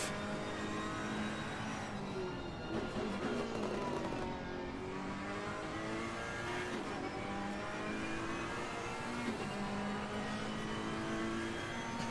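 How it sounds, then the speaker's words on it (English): A Ferrari GT3 race car in a sim racing game at Mount Panorama, heard from onboard, drones with a smooth, steady engine note that rises and falls as it revs through gears, with no talk over it. "Ferrari does sound nice on board"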